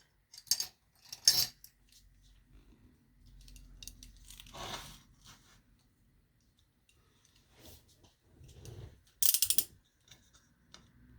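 A craft cutting machine for stickers and card embellishments runs in short mechanical bursts, with clicking, whirring moves and a few sharper scraping spikes against a quiet room. There is no talk.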